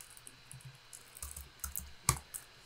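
Computer keyboard: a short run of close, light key clicks in an irregular rhythm, with one sharper tap near the end. The room is otherwise quiet and no one speaks.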